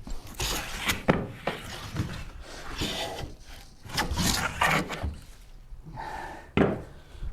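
Hand plane strokes across a wooden part for a Shaker Enfield cabinet, a series of close, rasping swipes with brief pauses between passes, no talking.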